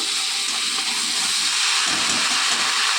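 Boiled figs and potatoes hit a pan of well-fried spice masala in a Bengali fig and fish dish, giving a loud, steady sizzle and hiss.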